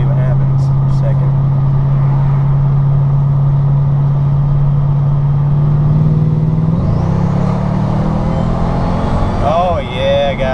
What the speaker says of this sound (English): Maybe I can let her drop down a gear now.